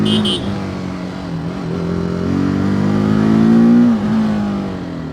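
A TVS Apache RTR 310 motorcycle engine revs steadily and strongly up close, its pitch climbing and holding before easing off near the end, with no talk over it.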